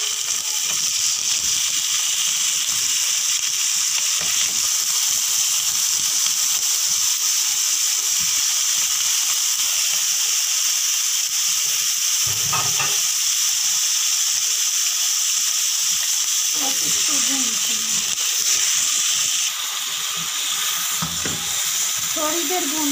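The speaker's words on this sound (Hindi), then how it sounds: "थोड़ा सा भूनने के बाद अब इसमें डालते हैं गोश्त।" Mutton pieces frying for Ramadan yakhni gosht in a pot with spice paste. A loud, steady sizzle runs throughout with a few stirring scrapes near the end.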